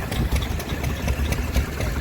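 A vintage stationary engine chugs steadily at a rally, close and fairly loud, with a regular low thumping rhythm and no talk over it.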